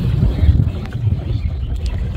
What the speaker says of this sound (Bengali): আমরা এই বন্যার মধ্যে এই ছোটো নৌকা চালিয়ে আমরা যাচ্ছি পানির মধ্যে।